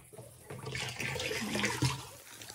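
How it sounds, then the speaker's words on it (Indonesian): Water pours steadily from a garden hose onto tomato plants in a village vegetable garden in Eastern Europe, a close, continuous rushing splash with no talking. "ini airnya sudah cukup ya segini untuk menyiram si tanaman tomat ini"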